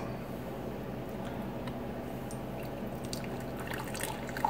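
Coffee poured from a French press, a soft, steady liquid trickle with light drips over a quiet background, growing slightly louder toward the end.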